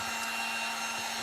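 A hair dryer drying paint on wooden craft planks blows with a steady, close, loud whooshing roar and a constant motor hum, unbroken for the whole moment.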